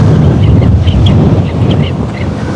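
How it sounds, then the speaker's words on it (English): Strong wind from Storm Jocelyn roaring and buffeting close to the microphone, a steady low rumble with faint distant chirps above it. "as you can hear, It's still very windy"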